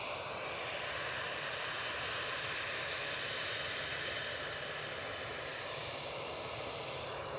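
EasyJet airliner engines at Edinburgh Airport give a steady, loud, broadband jet roar that holds evenly throughout with no voices.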